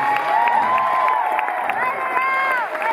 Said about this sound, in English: One more round of applause for the...